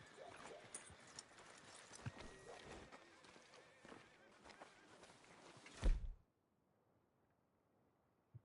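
Horse hooves clip-clopping in Red Dead Redemption 2, a steady run of close, uneven hoofbeats mixed with game ambience for about six seconds before a sharp thud and sudden quiet.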